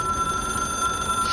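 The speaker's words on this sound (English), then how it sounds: "It is a phone. It's an object of power." A telephone rings in the video game Control, a steady electronic bell tone sustained without break, loud and clear with no talking.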